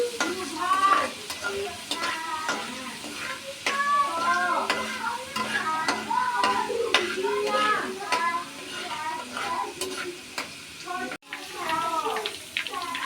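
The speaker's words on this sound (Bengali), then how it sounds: "এখানে কড়ায় তেল দিয়ে দিচ্ছি এখানে রসুন দিয়ে দেবো দিয়ে রসুনটা একটু নেড়ে চেড়ে ভেজে নেবো" Garlic sizzling in oil in a wok for an oil-based mango pickle, stirred and turned; a steady frying crackle runs under ongoing talk, with scattered scrape and clink sounds throughout.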